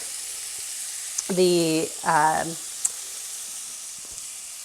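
Onions fry until translucent for a chicken pot pie, with a soft, even sizzle running throughout while a voice speaks briefly over it near the middle.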